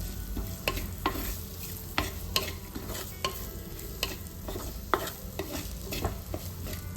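Bitter gourd sautéing in a pan under a soft, constant sizzle, punctuated by repeated scraping and tapping strokes of a spoon stirring it at an irregular pace, close and fairly quiet, with no voices.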